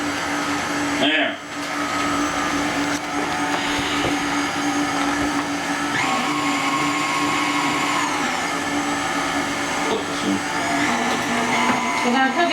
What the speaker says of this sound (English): start stirring it on the stir until all the powder is together